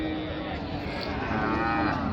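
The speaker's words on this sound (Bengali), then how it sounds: "এই যে এতগুলো গরু আছে এক বহরে" Cattle lowing repeatedly at Raniganj cattle market in Dinajpur, where a herd of thin cows is gathered; steady, fairly close moos over a continuous crowd-and-market murmur.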